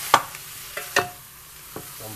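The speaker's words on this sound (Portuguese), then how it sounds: "Vamos misturando." A pot of Angus beef rib stew with cassava is stirred, with a few distinct spoon knocks and scrapes against the pot over a low simmering hiss.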